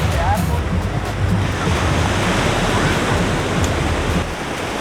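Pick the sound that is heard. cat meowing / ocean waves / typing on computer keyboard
ocean waves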